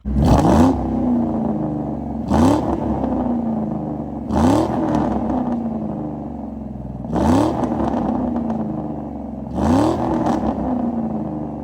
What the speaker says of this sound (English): It has a Magnaflow exhaust, and it has a Catalyst X pipe. It's actually really loud.